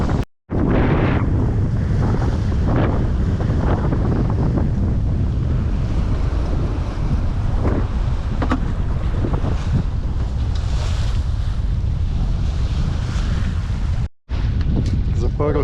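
A sailboat motors straight into the wind off the Turkish coast with sails furled, giving loud, constant buffeting wind noise on the microphone over a low engine rumble and water rush, with a few brief knocks.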